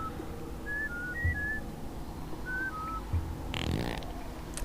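Short melodic whistle tones from the Oddworld: New 'n' Tasty game, two pairs of high and lower two-note whistles spaced apart, fairly clear over low game ambience, followed by a brief noisy burst.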